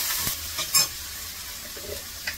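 Eggplant, potato and peas drop into a hot pan for spinach bhaji, raising a continuous sizzling hiss broken by several sharp stirring clatters.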